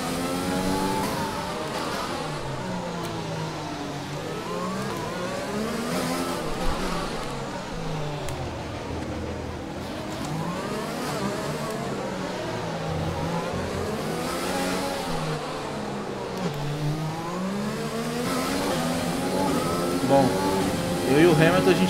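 An F1 2020 race car with a slightly worn engine, racing in the video game at the Monaco Grand Prix, revs and shifts repeatedly through rising and falling engine whines for the whole stretch, with commentary voices over the engine.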